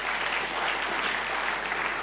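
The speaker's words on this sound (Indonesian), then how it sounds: "Tepuk tangan bagi Tuhan." Congregation clapping in a church during a Good Friday sermon, a steady, even wash of many hands throughout, fairly loud and without pauses.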